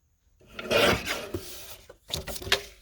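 Paper is sliced on a trimmer, a close rasping scrape of the blade drawn along the sheet, followed by a second shorter scraping pass.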